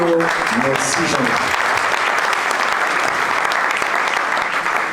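At a federal congress hall, a crowd breaks into loud, even applause that carries on unbroken, with a short burst of voice heard at the very start.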